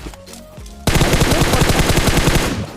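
Heavy rapid gunfire in a PUBG battle royale match, heard from a nearby school building: after a quieter opening of game sounds, loud sustained automatic bursts erupt and keep going to the end.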